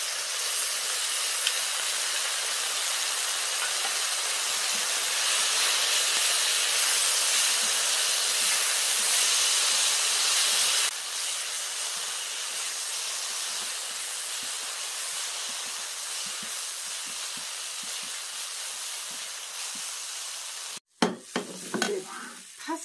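Seasoned soy sauce poured over fried fish cakes in a hot pan, a loud, steady sizzling hiss that drops slightly midway, then ends in clattering stirring noises.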